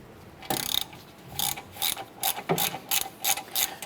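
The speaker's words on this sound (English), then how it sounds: "We're gonna remove these two 10mm bolts. Let's go ahead and get our lower bolt here." Ratchet wrench loosening 10mm bolts on a 2008-2012 Honda Accord suspension knuckle, a series of close, crisp clicking bursts in an irregular rhythm, with no talking.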